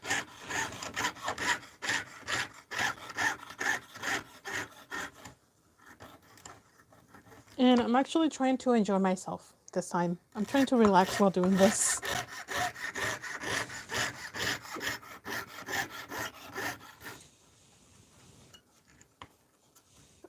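A hand saw cuts through copper in quick, rhythmic rasping strokes, pausing and resuming, with someone talking over parts of it and a bird chirping nearby.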